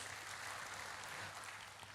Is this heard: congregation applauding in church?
yes